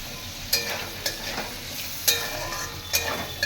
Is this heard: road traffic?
no